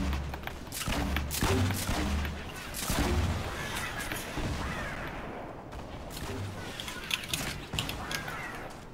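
Video game gunfire rattles in dense, overlapping bursts with booms and whooshes throughout, loud and continuous, with voices chattering underneath.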